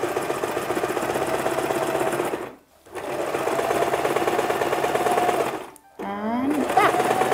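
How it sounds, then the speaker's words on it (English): A sewing machine runs a seam in steady, rapid mechanical chatter, pausing twice briefly, with a short whirring slowdown near the end; the motor and needle sound close and fairly loud. "I'll sew."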